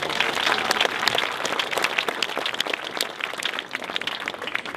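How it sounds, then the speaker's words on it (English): A crowd at an outdoor Amy Johnson Day gathering in Herne Bay applauds Cass, a steady dense clapping that carries on without a break from start to finish, with little talk above it. "Great round of applause for Cass"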